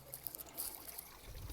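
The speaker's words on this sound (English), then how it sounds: "I've just turned the water on." Water flows into a garden bed in a new growing system, a soft, steady trickle and gurgle close by with no voices.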